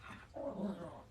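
A dog growls briefly and low from close by, a short rumbling snarl with no talk over it.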